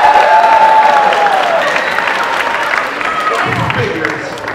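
An audience at a street festival juggling show claps and cheers in a loud, steady crowd ovation that gradually softens, with a voice talking over it partway through.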